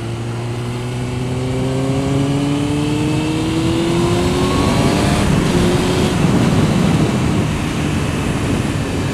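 A Suzuki GSX-R 750 sport motorcycle engine revving hard while being ridden, rising tones climbing steadily through the gears, loud and close with continuous wind and road roar throughout.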